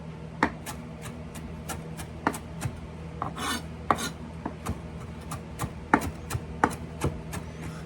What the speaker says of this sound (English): let's go ahead and chop our parsley